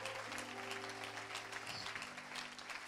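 A church congregation claps and applauds in praise, a dense, steady wash of many hands lasting the whole stretch, with faint sustained tones beneath and no clear talk.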